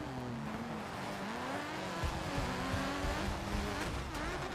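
A Subaru rally car in the racing game DiRT 2 roars steadily with a loud, continuous engine drone, rising and falling revs and tire noise, with no talking.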